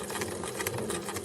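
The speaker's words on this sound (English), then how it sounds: "now I'm going to come down to my other row of stitching that I had previously" Sewing machine stitching fabric and webbing for a basic tote bag, a steady, fast mechanical whirring and rattling that runs continuously at moderate loudness.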